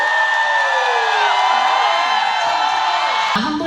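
An audience at a tour concert in Seoul fills the hall with loud, sustained screaming and cheering, full of high whoops that fade out near the end.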